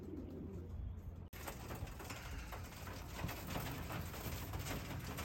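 Pigeons coo softly in an aviary, low repeated burbling calls over a steady mechanical hum, with a brief cut near the start and the cooing continuing at moderate distance, no talking.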